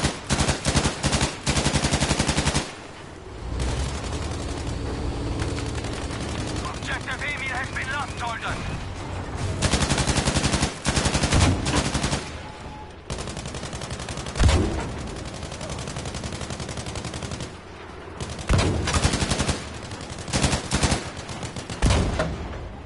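Rapid bursts of automatic gunfire in the video game Battlefield, a night match, loud and repeated in clusters across the clip, with occasional talk underneath.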